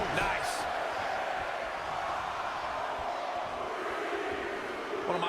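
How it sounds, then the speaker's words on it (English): Arena crowd in the WWE 2K20 wrestling video game roaring and chanting in unison at a Royal Rumble elimination, a dense, loud, continuous wall of voices filling the whole stretch. "Listen to this crowd count the next one."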